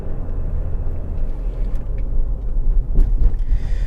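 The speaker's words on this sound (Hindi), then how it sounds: "So let's do a breaking test here." Inside a 2024 Hyundai Tucson diesel automatic during a braking test, a steady low road rumble fills the cabin and rises briefly near the end as the car slows, with no talking.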